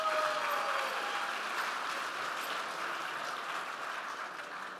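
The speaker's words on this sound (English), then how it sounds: "So she deserves another hand of applause." Applause from a gala dinner audience honouring a guest, a steady wash of many hands clapping that fades slightly toward the end.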